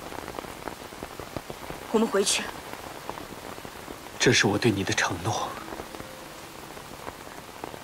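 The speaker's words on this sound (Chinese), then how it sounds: "现在这么大雨，你不能淋雨。" Heavy rain pours steadily throughout, with two people speaking over it in a tense exchange.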